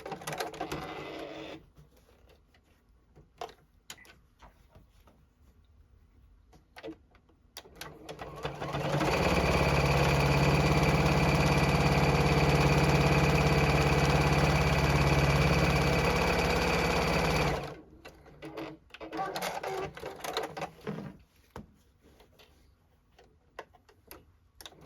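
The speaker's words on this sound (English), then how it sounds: "And I am sewing all 3 sides of my bag." A JUKI sewing machine stitches the sides of a quilted zipper bag, a loud steady mechanical whir with rapid needle ticking that runs for several seconds, framed by quieter handling clicks before and after.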